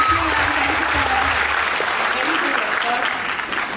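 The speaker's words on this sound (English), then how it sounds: "I should really applaud." An audience applauds at a fashion show, a dense, steady wash of clapping hands that holds at an even loudness throughout, with a faint murmur of voices mixed in.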